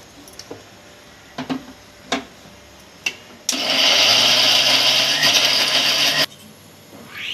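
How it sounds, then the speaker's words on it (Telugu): A kitchen mixer grinder whirs loudly for about three seconds as it grinds bottle gourd pieces and coriander into a coarse chutney, preceded by a few sharp clicks and knocks with no talking. "వేసేసుకొని మళ్ళీ మిక్సీ పట్టుకుందాం"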